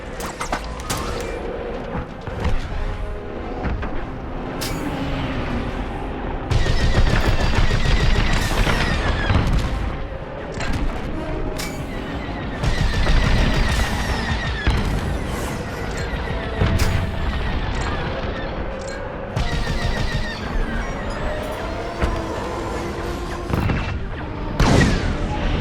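Blaster and laser fire in a Star Wars Squadrons space dogfight: repeated loud zapping bursts and booms over a dense, mechanical battle din, with heavier impacts in clusters throughout.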